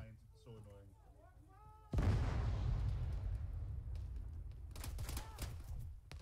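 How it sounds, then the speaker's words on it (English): A heavy explosion in the military video game ArmA 3 booms suddenly and loudly, then rumbles and decays for several seconds; faint voices and radio chatter occur before and after. "Explosion west side."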